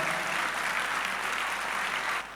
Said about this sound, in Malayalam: കൈയടിച്ച് കർത്താവിനെ സ്തുതിക്കട്ടെ.